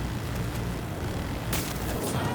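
Sustained rapid minigun fire in Battlefield 2042, a dense continuous roar of gunfire with a sharper burst partway through, loud and alone without talk.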